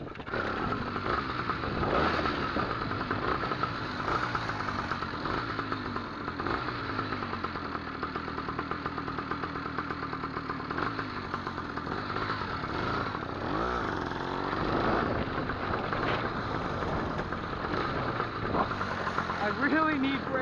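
A two-stroke chopper motorcycle engine runs steadily while being ridden, a close, buzzy, rattling drone that rises and falls slightly with the throttle throughout.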